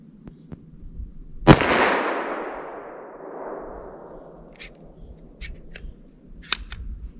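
A single sharp pistol gunshot from a 10mm or .44 Magnum handgun fired outdoors at a 50-yard target, with a long rolling echo afterward and a few faint clicks later.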